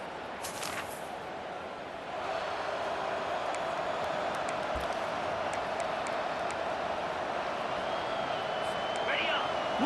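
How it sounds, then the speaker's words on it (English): A college football stadium crowd in EA Sports College Football 25 roars as a steady, dense wash of voices that swells louder partway through, with scattered claps and a whistle-like tone. "Listen to the crowd energy here in the early going."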